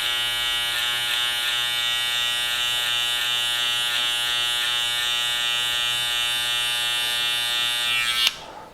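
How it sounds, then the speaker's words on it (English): Electric beard trimmers buzzing continuously and close up while blending a beard fade, a steady bright whine with slight wavers as they move through the hair, switching off abruptly near the end. "We're just going to sort of flick out with the trimmers downwards and start off the blend that way."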